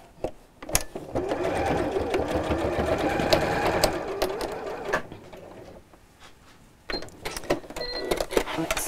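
A domestic sewing machine stitches a fabric messenger bag in a long, steady whirring run, pauses briefly, then starts again in shorter bursts, close and clear with no talk over it.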